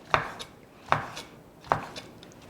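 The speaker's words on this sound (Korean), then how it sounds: "그럼 오징어를 알맞게 썰은 다음에 한번 준비해 보겠습니다" A knife slicing squid into rings on a cutting board gives three crisp, evenly spaced chops with faint lighter taps between them. Close and clear over a quiet background, with no one talking.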